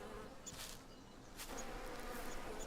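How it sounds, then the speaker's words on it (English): Bees buzz around a beehive on a farm in the video game Farmer's Dynasty 2. The drone is faint, steady and continuous, with slight swells as insects pass, and no talk over it. "I hear bees, but I don't see a symbol or being able to collect honey as of yet."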